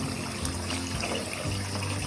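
Water splashes and trickles as a toy is fully submerged in cold tap water, a steady running-water wash with low gurgles, close by and with no talk.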